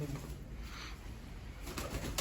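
Pigeons coo softly nearby, a low rolling call repeated over a brief moment with faint rustling.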